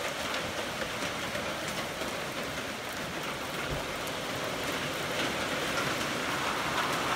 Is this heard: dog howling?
no